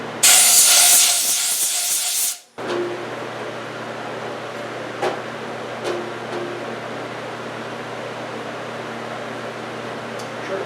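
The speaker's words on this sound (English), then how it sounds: "we'll just blow this out quick." A close, loud burst of compressed air hisses for about two seconds as a Farmall 560 diesel engine part is blown out during head gasket work, then cuts off, leaving a quiet shop hum with a few faint clicks.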